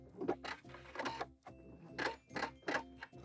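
Sewing machine backstitching satin neckties onto an apron bodice, short bursts of rhythmic mechanical whirring, about six quick runs separated by brief pauses, close and moderately quiet.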